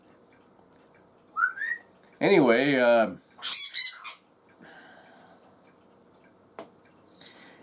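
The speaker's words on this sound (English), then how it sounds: "As soon as I start turning on the camera and talking, she starts to squawk." A pet bird squawks and whistles in loud, harsh bursts near the microphone, with a long wavering squawk in the middle and shorter calls after it, while someone speaks briefly.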